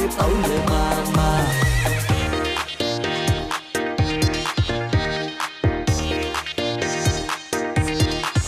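A horse whinnies and neighs loudly over a background of rhythmic clip-clop hooves and steady musical accompaniment, with no voices.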